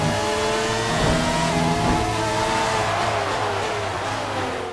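An F1 car engine revs loudly in the racing video game F1 2019, a sustained high-pitched whine with shifting harmonics that rises and holds close, then tapers slightly at the end.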